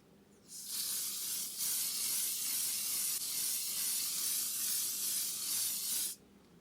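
Sunscreen spray from a shaken aerosol can is sprayed onto one half of a face, making a close, loud, steady hiss that runs unbroken for about five and a half seconds and then cuts off.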